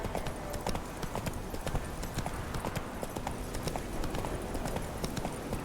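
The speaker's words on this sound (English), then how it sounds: "Didn't you hear the horse coming?" Rapid hoofbeats of a galloping horse clip-clop steadily throughout, fairly quiet and continuous, in the video game The Witcher 3: Wild Hunt.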